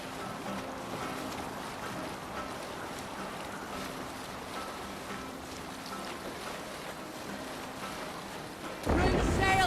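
A sailing ship moves over open sea in Assassin's Creed Valhalla, with a constant wash of waves, wind and creaking hull filling the background, then a sudden louder burst of splashing and rushing water near the end.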